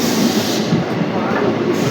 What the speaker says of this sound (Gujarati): તો ભાઈ હવે આપણી ટ્રેન આવી ગઈ છે નવાગઢ